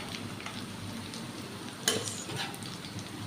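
Onions frying in a pan for homemade Egyptian koshari, a steady soft sizzle running throughout with a brief clatter of cookware near the middle and no talking.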